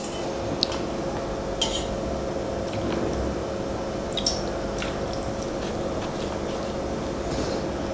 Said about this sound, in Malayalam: എന്നിട്ട് ഇത് നമുക്ക് കുറച്ച് വെള്ളം ഒഴിച്ചിട്ട് നന്നായിട്ട് മിക്സ് ചെയ്ത് എടുക്കാം.